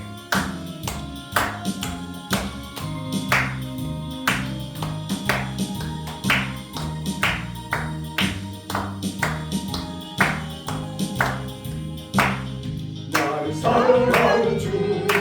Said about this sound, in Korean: 우리 함께 박수치며 찬양합니다.